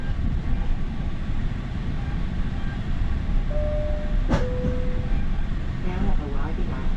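A GO commuter train heading toward Toronto Union Station gives a steady, loud rumble of rail travel throughout, with a sharp brief click midway and a few tonal squeals or whines; a voice talks over it.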